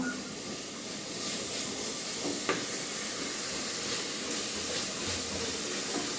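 Tomatoes sautéing in a pan for a rice dish, a steady broadband hiss and sizzle holding level throughout, with faint stirring scrapes and one brief utensil knock, no talking.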